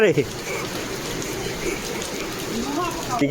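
Steady rain pours down in a continuous hiss, close and even throughout, with brief voices at the start and end.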